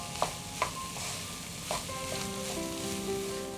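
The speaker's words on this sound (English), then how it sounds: "we are going to cook this on a medium flame for 2 minutes while stirring it occasionally" Shahi pulao sizzles softly in a pan over a medium flame, a steady frying hiss broken by a few clinks and scrapes of a spoon stirring, close and quiet with no speech.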